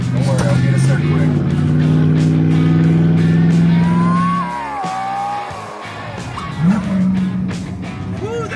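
A car carries fenders on a drive to a powder coating shop, its engine droning loud and steady with rising and falling pitch through gear changes, then easing off and picking up again while people talk over it.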